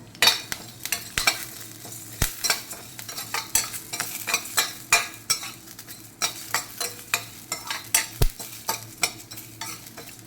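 Curry leaves, coriander seeds and cumin frying in a little oil, with a steady soft sizzle broken by repeated sharp stirring scrapes and clinks of a spoon in the pan, close and fairly quiet.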